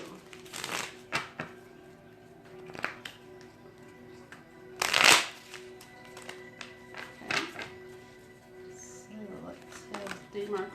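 Tarot cards being shuffled and handled close up, with bursts of riffling and sharp slaps and taps spread out at irregular intervals, and a person talking in between.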